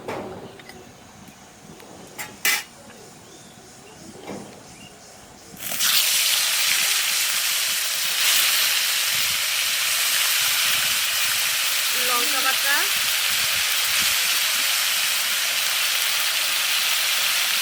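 Onion paste dropped into hot oil with cumin and bay leaf bursts into a loud, steady sizzle after a few quiet seconds and keeps hissing continuously to the end, with a voice speaking briefly.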